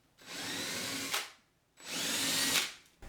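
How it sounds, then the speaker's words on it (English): A power drill with a countersink bit cuts screw-hole recesses into wooden closet shelving, two steady whirring bursts each lasting about a second, close and loud, with no talk. "so that these screw heads seat a little nicer in here, we're going to use a countersink bit"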